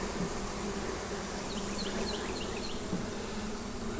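Honeybees buzz steadily around an opened beehive during an inspection of brood and drone cells, a dense, constant hum filling the whole stretch, close and fairly loud, with no voices.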